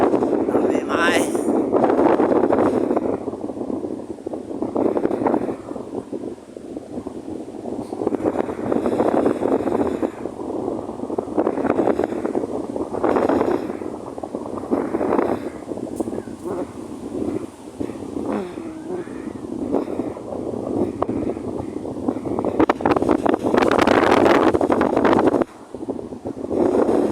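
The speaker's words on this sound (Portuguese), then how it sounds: "Se tiver um barulho aí, pessoal, é o vento." Strong wind buffets the microphone on a cold San Francisco beach, a loud, rumbling, gusting roar that swells and dips throughout and nearly buries the speaking voices underneath.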